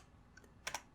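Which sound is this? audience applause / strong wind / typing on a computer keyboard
typing on a computer keyboard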